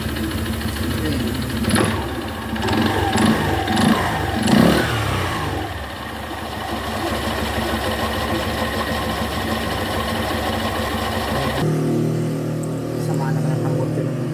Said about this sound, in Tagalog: Sama naman ang tambot yun ng motor na yun.